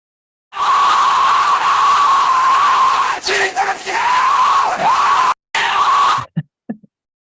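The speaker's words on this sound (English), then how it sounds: "So this is Kurt Cobain screaming Jesus. This was a generation, one of the first things we generated." A neural-network-generated Kurt Cobain voice lets out a long, harsh, distorted scream of 'Jesus', loud and sustained for several seconds before breaking into short ragged bursts and stopping.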